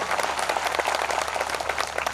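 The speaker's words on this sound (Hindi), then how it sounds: "उनका खैर मकदम और इस्तकबाल जोरदार तालियों से" Audience applause welcoming a guest from Surat, Gujarat at a devotional discourse gathering: dense, steady clapping from a large crowd that holds at an even level throughout, with no voices over it.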